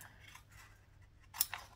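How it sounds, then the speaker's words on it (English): Paper-cutting scissors snip along a dotted line on a paper pattern piece for a lower back lining, giving one brief crisp cut that stands alone over a low, quiet room hum. "These are my paper cutting scissors. So I'm just going to cut on the dotted line"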